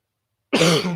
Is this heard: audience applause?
no